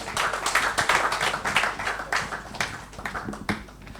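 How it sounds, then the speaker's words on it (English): Audience clapping for a speaker at a 2019 summit on infrastructure, a moderate crowd with uneven, bunched claps that swell and fade in loose waves, fairly close and without talk. "Please, can you give him a round of applause?"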